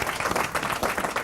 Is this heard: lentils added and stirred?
no